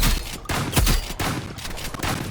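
Rapid bursts of video game gunfire from a rivals shooter match, three or four loud clusters of shots in quick succession with short gaps between, close and alone without talk.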